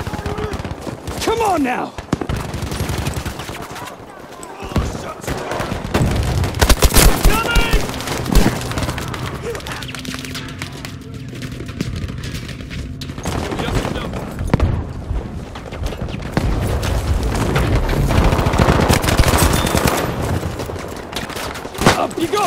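Battlefield V combat with dense rifle and machine-gun fire in repeated bursts and booms over about twenty seconds, while soldiers shout under the shooting.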